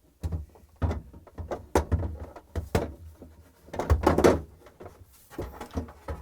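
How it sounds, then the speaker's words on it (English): A drawer being slid back into a GE refrigerator, a series of close plastic knocks, thunks and sliding scrapes in uneven bursts as the rail is seated. "And we're going to install the drawer back in."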